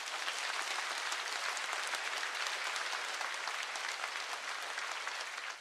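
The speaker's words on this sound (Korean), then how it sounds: "세계평화통일가정연합 세계회장과 한국협회장 이취임식을 큰 박수로 시작하겠습니다" A large audience applauds at an inauguration ceremony in a hall, dense sustained clapping that stays loud and even throughout without pause.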